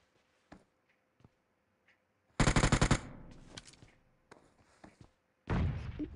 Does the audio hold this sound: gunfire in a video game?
yes